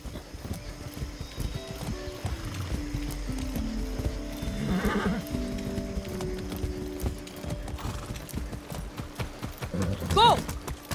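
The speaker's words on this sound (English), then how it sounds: "I haven't ridden a horse since basic training." Horse hooves clatter in a rapid galloping rhythm in the video game Far Cry 6, with a sharp whinny near the end, mixed with game background sounds and some speech.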